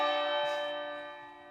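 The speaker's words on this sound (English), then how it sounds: "So we got some church bells right here." One church bell strike rings out with a rich, sustained metallic tone that slowly decays, heard alone as part of an electronic pop song production mix.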